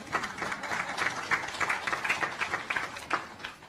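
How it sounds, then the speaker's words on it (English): An audience at a launch event claps in a brisk, uneven patter of many hands, moderately close and steady for a few seconds before tapering off, without speech over it. "So, yes, you can clap for that."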